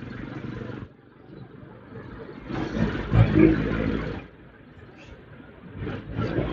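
Outdoors, a motorized tricycle engine runs with a low rumbling idle that swells louder for about two seconds in the middle and then settles back, with faint background chatter.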